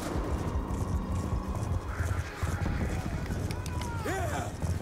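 Horse galloping during a Black Ops 2 campaign battle, rapid hoofbeats running under dense, noisy game action, with a brief horse whinny near the end.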